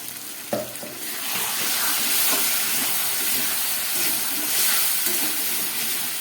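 Water used to rinse spice bowls is poured over mutton frying in a pan, setting off a loud, close, sustained hiss and sizzle that holds steady after the pour.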